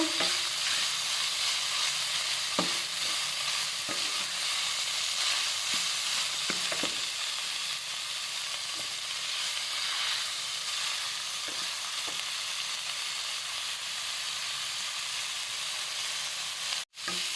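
Thai pork belly stir-frying in a pan for a red curry paste dish with celery and green onion, a loud continuous sizzle broken by scattered scrapes and clacks of a utensil, ending in a sharp knock.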